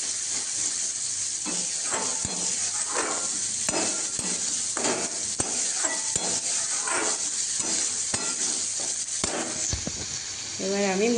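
Spice paste for moong dal khichuri fries in oil in a pan, giving a continuous close sizzle broken by the scrape and clatter of stirring.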